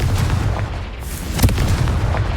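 Confringo blasting spells burst in Hogwarts Legacy, loud booming explosions over a rumbling, crackling battle backdrop, with one sharper blast standing out midway.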